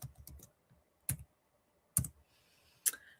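Typing on a computer keyboard during a live vintage sale: a few sharp isolated key clicks spaced about a second apart, near and clear against quiet.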